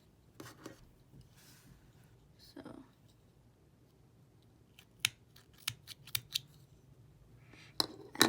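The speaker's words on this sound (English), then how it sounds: "So then to finish off this one, I'm going to cut a long chain." Scissors make several sharp, quiet snips through crochet yarn, scattered across the moment with soft handling noise between cuts.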